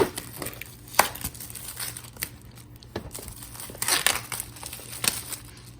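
Plastic wrapping on a BTS DVD package crinkles and tears as it is opened, with irregular bursts of crackling and a few sharper rips, fairly close and without speech.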